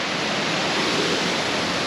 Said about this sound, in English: I was just saying to Sam, maybe there's 3 waterfalls